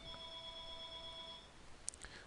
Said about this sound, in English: Okay, sorry about the phone.